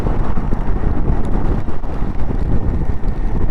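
Continuous heavy wind buffets the microphone of a moving Royal Enfield Himalayan 450 motorcycle, a dense, roaring rumble that never lets up.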